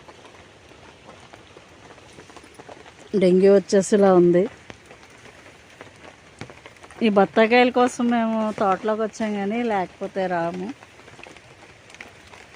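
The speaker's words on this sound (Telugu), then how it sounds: "అందులోకి వర్షం పడుతుంది కదా" Soft, steady patter of rain falling on an orchard of sweet lime and banana trees throughout, with a person talking over it in two stretches.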